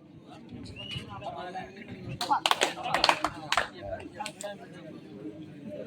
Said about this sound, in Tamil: ஆடியன்ஸ் கொஞ்சம் கைத்தட்டி உற்சாகப்படுத்துங்க.